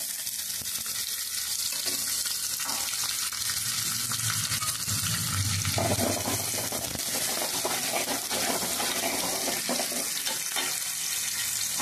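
Chopped onion fries in hot oil with chili in a pan of fenugreek greens, giving a steady, close sizzle and crackle with occasional stirring scrapes throughout.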